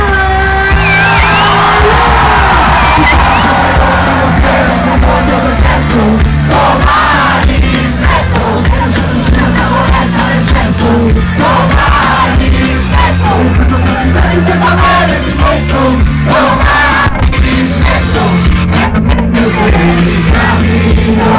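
A concert crowd shouts, yells and cheers at full volume, a massed roar of many voices that goes on for about twenty seconds with repeated surges of whoops and cries.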